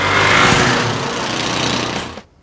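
A lawn mower engine runs loud and close with a harsh buzzing drone, then cuts off abruptly near the end.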